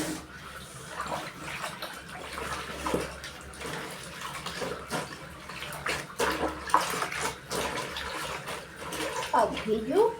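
Light-coloured trousers hand-washed in water with detergent at home, producing continuous sloshing, splashing and dripping close by, with irregular louder swishes as the cloth is worked, under occasional talk.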